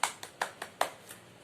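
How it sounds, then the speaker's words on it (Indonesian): Six evenly spaced hand claps ring out in a steady rhythm, fairly quiet and close, offered as applause for Jesus during a church sermon about his miracles. "Kasih tepuk tangan buat Tuhan Yesus"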